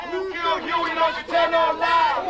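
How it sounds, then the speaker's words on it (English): Protesters marching through the streets in an angry crowd, chanting together in loud, rhythmic bursts of massed voices that rise and fall, close and forceful. "they took to the streets, marching and chanting"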